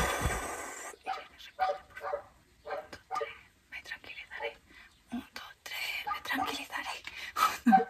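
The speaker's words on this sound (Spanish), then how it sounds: "A ver si los perros se callan un poquito." Dogs barking intermittently in the background, somewhat distant, while someone speaks softly in Spanish over them during a makeup haul.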